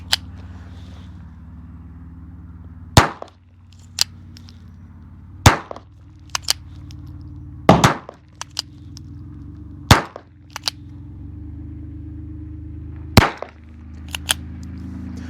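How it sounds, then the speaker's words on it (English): Sharp, suppressed gunshots from a Ruger Mark IV pistol firing Remington subsonic rimfire ammo crack at uneven intervals, with fainter clinks and metallic clicks in between over a low background hum. "Ruger Mark IV, same gun. This is running the Remington Subsonic though."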